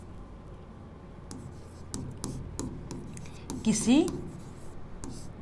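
Chalk or marker scratching on a board while theory is written out for a physics lecture, a series of short scratchy strokes and taps with a person speaking softly underneath.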